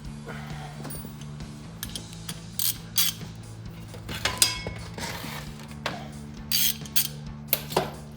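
Ratchet wrench fitted with a 15 mm socket loosening strut bolts on a 2007-2018 Chevrolet Silverado during a front lift install, giving scattered runs of sharp mechanical clicks and clinks over a low steady hum.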